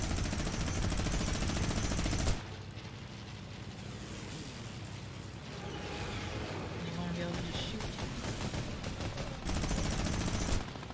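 Sustained, loud bursts of rapid gunfire from the video game Air Royale fill the opening seconds and return near the end, with a quieter stretch of engine-like drone between them.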